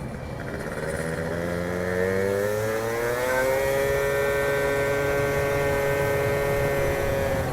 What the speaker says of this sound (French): Ah, une belle moto.